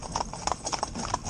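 Hooves of young green ponies in a mixed four-in-hand clip-clop in an uneven, busy rhythm, close and moderately loud against steady outdoor background noise.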